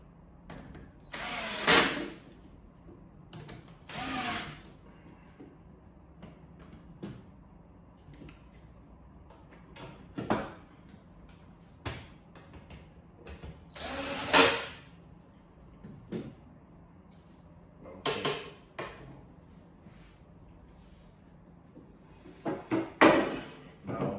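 A power drill drives two screws at the back of a car bed platform to secure its handlebar during assembly, with several short, loud whirring bursts separated by quieter clicks and handling of parts, no talking.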